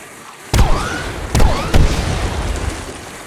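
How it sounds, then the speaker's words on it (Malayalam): Three sharp blaster shots crack out in the Star Wars Jedi Fallen Order video game, each a loud burst trailed by a whooshing streak and a fading rumble, spaced roughly a second apart. "അടുത്ത് വെടിവെച്ച് പൊളിക്കുവാണ് ഈ പെണ്ണുങ്ങൾ"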